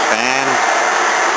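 Electric cooling fans on an NSU car run with a loud, steady, close whooshing drone, with a brief voice heard over the start.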